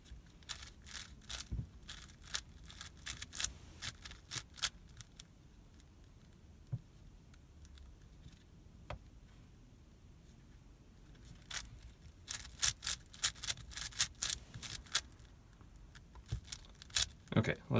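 Layers of an eight-color 6x6 puzzle cube turn in bursts of quick plastic clicks and ratcheting snaps, close and sharp, grouped into clusters with quieter stretches between where a person talks.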